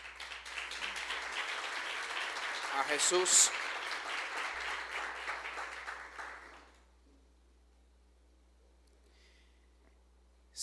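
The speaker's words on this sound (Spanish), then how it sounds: "Vamos, levante un aplauso" A church congregation bursts into applause during a Spanish-language sermon, a dense clapping roar with a voice over it for several seconds before cutting off to near silence.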